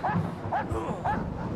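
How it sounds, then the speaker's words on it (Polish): Dogs in the video game Rosemary's Fate giving three quick yipping barks in a row, fairly close and clear, with a faint whimper between them. "Tu są psy."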